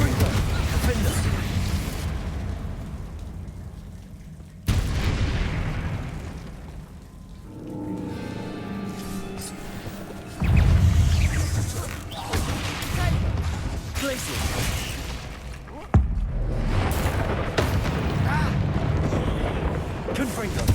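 Confringo spell explosions go off in the Hogwarts Legacy video game: heavy rumbling booms and bursts come one after another in a dense, continuous battle din that stays loud throughout, with sudden blasts breaking in every few seconds.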